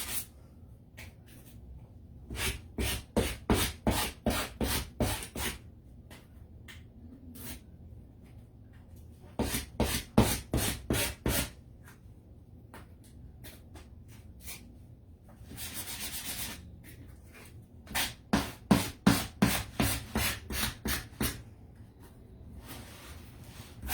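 Hand sanding of a painted Valentine's wall decor piece: fast, close back-and-forth rasping strokes in several distinct bursts, with quiet gaps and one longer smoother rub midway.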